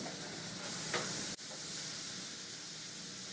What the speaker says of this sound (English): Now, as the bacon cooks, it'll start to reduce.